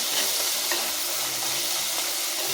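Tomato, shallot and garlic sauté in hot oil, giving a dense, steady sizzle with faint stirring scrapes, close and continuous while a Tamil fish curry is prepared.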